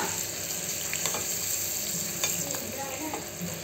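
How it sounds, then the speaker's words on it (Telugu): Dried red chillies and asafoetida frying in hot tempering oil for a ridge gourd chutney, a steady close sizzle with light stirring clicks running throughout. "అలాగే ఎండుమిర్చి కూడా వేయాలి."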